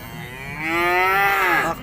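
A bull calf at a cattle livestock market gives one long, loud, close moo that rises and holds through most of its two seconds, with no talk over it.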